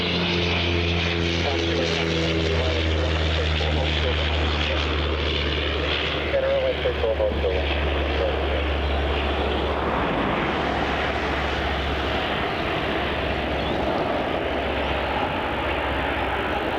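A fixed-wing airliner landing at Melbourne Airport on runway 34, its engine roar a steady, loud drone that swells and shifts over the clip, heard from a spotting position.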